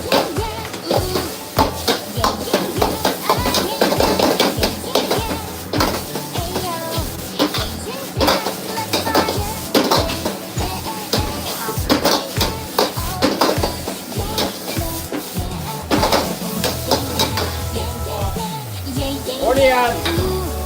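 Minced pork and garlic stir-fry in hot oil in a pan for Thai drunken noodles, a continuous loud sizzle broken by frequent scraping and tapping of a utensil against the pan, with occasional quiet talk.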